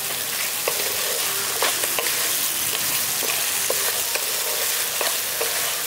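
Fried pointed gourd fritters being stirred with a spice mix in a hot pan: repeated scraping strokes of a spatula against the metal ride over a steady loud sizzle, close up, without any talking.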